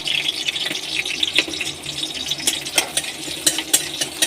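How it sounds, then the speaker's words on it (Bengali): Chopped green chilies frying in hot oil, giving a steady soft sizzle with scattered crackles and faint stirring or clinking sounds close by. "তো আমার এখানে তেল গরম হয়ে গেছে এখানে দেখো দুটো কাঁচা লঙ্কা আমি কুচিয়ে দিয়েছি"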